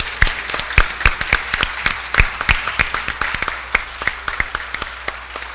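Applause for youth congress members in a legislative chamber, a modest group clapping in distinct, uneven claps with a sparse rhythm, fairly close and without talk.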